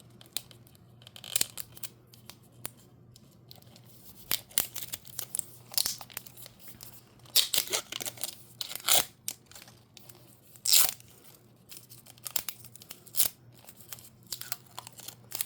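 Plastic packaging crinkles and rips in sharp, irregular bursts, with crackling tears and short pauses between them, heard up close.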